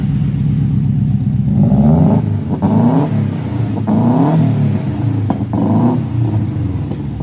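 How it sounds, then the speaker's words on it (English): A modified Subaru WRX with a new exhaust and a new O2 sensor, idling with a steady rumble, then revved repeatedly in several rising and falling bursts, loud and close. "It's idling pretty good, and now when I give it gas, it's not cutting crazy with the new O2 sensor."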